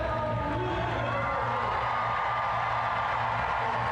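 A stadium crowd at a Grand Slam Track meet in Philadelphia erupts in loud, sustained cheering and shouting that carries on steadily for a few seconds without any speech over it.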